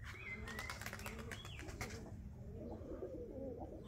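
Pigeon cooing inside a coop, a low steady coo running throughout with a few higher bird calls and light rustling early on, close and moderately loud.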